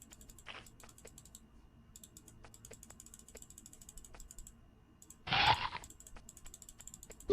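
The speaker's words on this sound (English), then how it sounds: "your clicking finger gets a lot of workout when you play with a mouse on this game" Rapid computer mouse clicks rattle in quick runs and pauses during play of the game Exile: Escape from the Pit, faint and close, with a brief louder rustle partway through.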